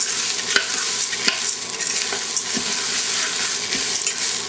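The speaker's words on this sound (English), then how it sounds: "Then I go just do a little stir so that all the beans get coated with a little bit of the butter." Black beans being stirred in butter in a pot on the stove, a steady close scraping and stirring with soft sizzling throughout, a few sharper knocks of the spoon against the pot.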